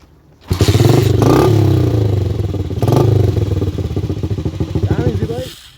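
A custom Harley-Davidson-style motorcycle engine catches and runs, a loud close rumble with two strong revs around the first and third seconds before settling into a steady, pulsing idle that cuts off near the end.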